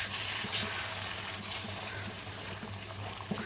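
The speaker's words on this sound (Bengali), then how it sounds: "জল দিয়ে দিলাম।" Water poured into a pan of chicken chaap, a soft continuous gushing splash that stays fairly quiet and even throughout, with no talking.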